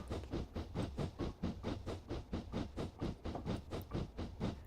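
A Darjeeling Railway steam locomotive in Train Simulator Classic chuffs in a steady, rhythmic series of steam exhausts while braking on steam, the beats evenly spaced and fairly soft.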